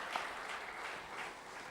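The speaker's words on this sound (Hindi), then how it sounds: "एक बार जोर से ताली बजाइए" Audience applause at a Brahma Kumaris spiritual talk, a steady wash of many hands clapping together, fairly even and sustained throughout with no voices over it.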